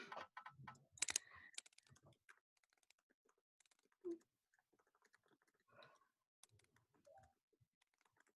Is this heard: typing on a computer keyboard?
yes